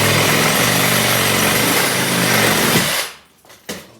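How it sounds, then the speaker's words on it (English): Sawzall reciprocating saw cutting into an old plaster wall, a loud, close buzzing rasp running steadily for about three seconds, then stopping abruptly, followed by a couple of faint knocks. "I'm going to have to just use my Sawzall"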